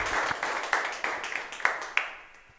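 Church congregation applauding at a men's gathering, a short round of sharp, fairly close hand claps with a rough beat that tapers off within about three seconds.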